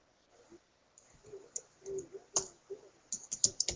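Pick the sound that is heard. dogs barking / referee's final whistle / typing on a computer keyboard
typing on a computer keyboard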